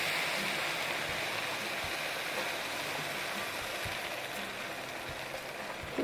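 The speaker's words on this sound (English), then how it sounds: "we're going to add 3 cups of broth" Broth poured steadily into a pot of rice with salsa for Spanish rice, a continuous close liquid splashing and gurgling rush that holds even for about six seconds with no talking.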